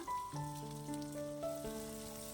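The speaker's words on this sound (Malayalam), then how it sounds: "സവാള ഇനി ഒന്ന് വഴറ്റിയെടുക്കണം." Sliced onion cut lengthwise sautéing in hot oil in a non-stick pan, a steady close sizzle throughout with a faint tonal hum underneath and no talking.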